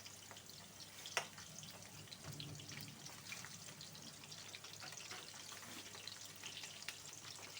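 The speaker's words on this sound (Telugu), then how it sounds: "కాకరకాయలు వేగుతున్నాయి, ఇట్లా మలరేసుకోవాలి." Bitter gourds fry in oil in a pan, giving a faint, steady crackling sizzle with small pops and a light scrape of stirring, heard alone.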